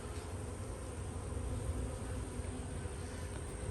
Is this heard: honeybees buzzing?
yes